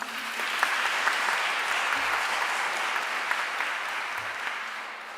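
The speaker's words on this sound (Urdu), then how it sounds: "ایک دفعہ ضرور تالیاں ہونی چاہیے۔" Church congregation applauding during a Christmas Nativity celebration at an Urdu-language service, a broad steady wash of many hands clapping, sustained and even with faint voices underneath.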